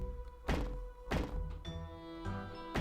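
Windows being placed on the turret of a Victorian house in The Sims 4 build mode: four dull, punchy thunks spaced irregularly over soft, steady background music.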